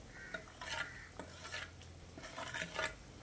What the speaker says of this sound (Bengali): তারপর এই ঝোলের সঙ্গে ঢেঁড়সগুলোকে খুব ভালোভাবে নেড়ে চেড়ে মিশিয়ে নিতে হবে